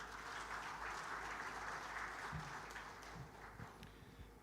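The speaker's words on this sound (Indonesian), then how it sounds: "Kita beri aplaus buat Infovesta, rekan kami, boleh." Audience applause at the Investment Manager Awards 2023 ceremony, honoring Infovesta: a steady, dense wash of many hands clapping that holds evenly throughout and tapers slightly near the end, with no voices over it.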